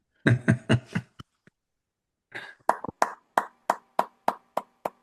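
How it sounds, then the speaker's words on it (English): Remote audience members unmuted on an online call clap for a professor: an opening flurry of overlapping claps, a brief pause, then a steady run of about ten single, evenly spaced claps, fairly close and dry. "give a round of applause to Professor Corporon"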